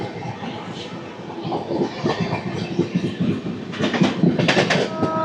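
The Golconda Express, a 17201 Guntur–Secunderabad passenger train hauled by a WAP-7 locomotive, rumbles along the rails with a steady clickety-clack of wheels, heard from on board and growing louder and busier near the end.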